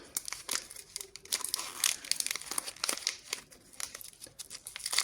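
Sweets packet torn open by hand, its wrapper crinkling and crackling loudly in close, continuous bursts of rustle with no talking.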